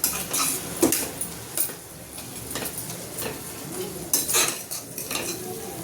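A metal spoon stirs tomato rice with meal maker, tomatoes and onions in a pot, making continuous close scraping and clinking against the metal with a faint sizzle underneath and no voices.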